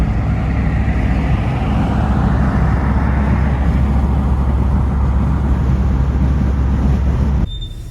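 Cars rush past in busy London street traffic, a dense continuous roar of engines and tires close by for several seconds, then cutting off abruptly near the end.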